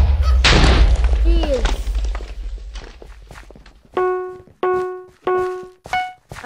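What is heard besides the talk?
explosions in a Minecraft egg wars video game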